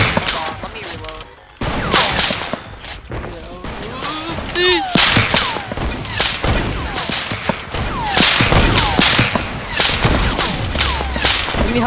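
Sniper gunfire crackles through a video game shootout, with sharp cracks and whip-like shots layered among rapid bursts of other weapons, busy and loud, while a voice talks over the action.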